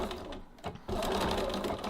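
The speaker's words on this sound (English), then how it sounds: "I'm stitching on the foam" A sewing machine stitches a bottom seam through a foam base stabiliser on a tote bag, a steady close mechanical whir with a brief slowdown partway through before it runs on evenly.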